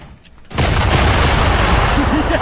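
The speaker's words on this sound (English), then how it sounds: "Yeah, I just contained the explosion too." A C4 explosion in the Fortnite video game bursts in suddenly after a quiet start, then a loud, dense rumbling roar sustains to the end, close and heavy with faint game sounds before it.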